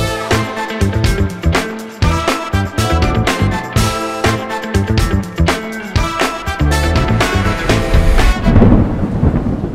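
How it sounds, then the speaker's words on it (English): Thunderstorm at night in Scotland, with loud, close cracks and rolling rumbles of thunder over a steady roar of heavy rain, continuous for the whole stretch with no talk. "And there is thunder and lightning."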